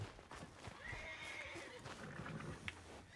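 A Kentucky Saddler horse in Red Dead Redemption 2 whinnies with a long rising neigh, accompanied by hoof clip-clops and soft background ambience.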